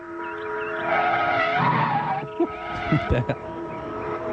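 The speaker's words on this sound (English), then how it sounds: "Thank goodness for the Jeep's braking distance of 500 yards" A Jeep in a film braking and skidding, with a sustained tire squeal rising and falling over a steady engine hum, followed by a few short bumps and knocks.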